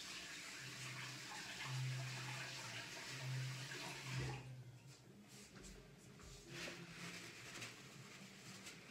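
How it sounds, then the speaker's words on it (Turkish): Hands washed under a running kitchen tap while gravlax salmon is prepared; faint, steady water hiss with low splashing, quieter toward the end. "Elimi bir hemen yıkayayım."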